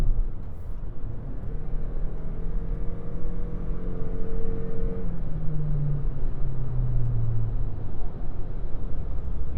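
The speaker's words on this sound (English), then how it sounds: "but that CVT sound and, you know, just the engine revving" Steady engine drone from inside a 2025 Toyota Crown Nightshade, its pitch rising smoothly without gear-shift breaks as the CVT revs under acceleration over road noise.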